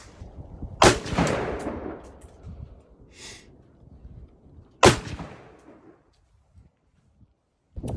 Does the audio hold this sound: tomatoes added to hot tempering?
no